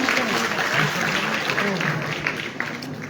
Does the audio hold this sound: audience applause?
yes